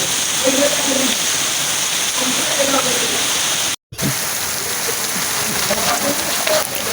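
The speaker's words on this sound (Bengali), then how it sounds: "দেখেন বন্ধুরা কতটা বৃষ্টি নামছে, সেই জোরে, প্রচণ্ড জোরে বৃষ্টি হচ্ছে" Heavy rain pours outside a temple in a dense, steady roar of drops on surfaces, loud and unbroken apart from one brief cut near the middle.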